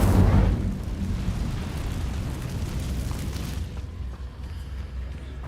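An Incendio fire spell is cast in a video game, a loud, sudden fiery burst that erupts at once and then roars on as a sustained rumbling blaze, slowly fading.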